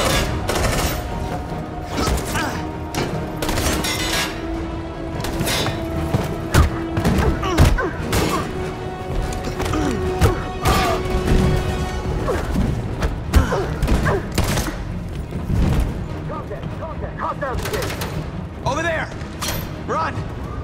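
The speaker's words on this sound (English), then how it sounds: "Suppressing fire!" Gunfire in the video game Detroit: Become Human, with dense, continuous bursts of shots, thuds and crashes at close range, and voices shouting over the battle.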